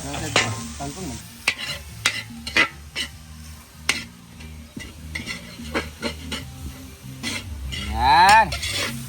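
Spicy string beans being stirred in a sizzling pan at an outdoor kitchen, with repeated scraping strokes of a utensil against the pan over steady frying; a short voice is heard near the end.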